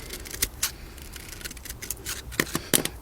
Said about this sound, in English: I'm going to take one of the trimmings, cut off side shoots